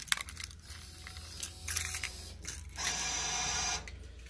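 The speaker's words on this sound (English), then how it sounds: "Bill machine resetting." A Keymaster arcade machine's bill acceptor resets with mechanical clicks and ratcheting whirs, a short burst near the start, another around two seconds, then a steady motor grind for about a second, close and moderately loud.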